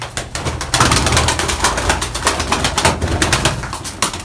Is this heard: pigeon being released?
yes